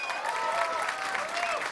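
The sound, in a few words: tournament crowd applauding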